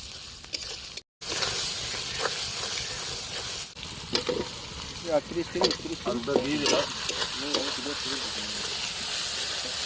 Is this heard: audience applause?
no